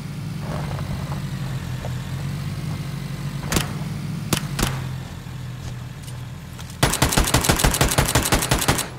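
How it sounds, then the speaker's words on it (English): Rapid automatic gunfire in PlayerUnknown's Battlegrounds, a dense burst near the end after a few isolated sharp shots over a steady low game hum. "Stop shooting at me!"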